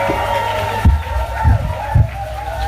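A crowd at an evangelistic crusade cheers and shouts, a loud continuous roar swelling in three rhythmic bursts, voices mixed through it.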